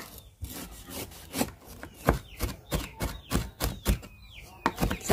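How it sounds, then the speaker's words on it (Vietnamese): Knife chopping thinly sliced lemongrass on a cutting board, a steady run of sharp, close wooden knocks at an uneven quick rhythm, with a few faint high squeaks between strikes. "mình sẽ băm sả cho nó dễ hơn ha"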